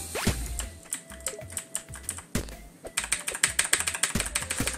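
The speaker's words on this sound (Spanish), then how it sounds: "Voy a pegarle al teclado un ratito porque la verdad que no me está colaborando" A computer keyboard is typed on and struck hard during a Forager gaming session, with irregular clusters of loud, close clicks and clacks that run fast and dense toward the end, with no speech.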